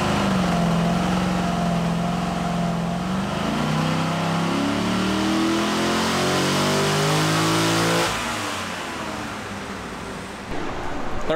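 A wrecked Corvette's engine revs hard on a dyno, a loud sustained roar whose pitch sweeps up and down through repeated pulls before dropping to a lower idle-like drone near the end.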